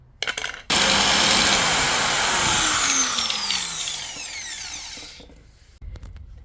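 A drill fitted with bits for hard stainless steel bores into a hard part of a blank gun revolver. There are a few clicks, then a loud whining drilling burst of about four seconds that slowly winds down, followed by quiet handling knocks.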